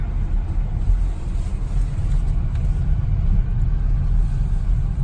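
A 2019 BMW X7 40i SUV accelerating in sport mode, heard from the cabin as a steady low engine rumble and road noise that holds evenly throughout.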